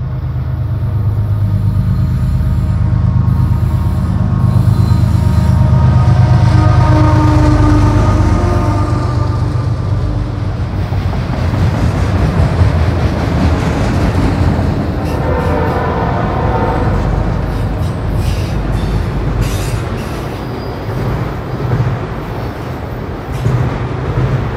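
A long CSX freight train with a remote DPU locomotive mid-consist rolls steadily past at close range, a loud continuous rumble and clatter of wheels and cars that swells and shifts as the locomotive goes by.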